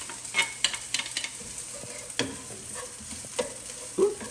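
Aromatics sautéing in olive oil in a pan, with soft intermittent sizzling and the scrape and clatter of stirring, close and moderately quiet.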